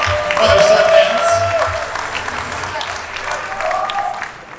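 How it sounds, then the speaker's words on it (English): Wedding guests applaud after the son dance at a reception, a moderate round of clapping under music and speech that gradually tapers off. "Let's give a round of applause up there for the son dance."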